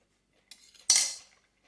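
A spoon clinks against a bowl of freshly stirred homemade salsa, one light tap followed by a sharper, louder scrape-and-clink that quickly fades, close and alone.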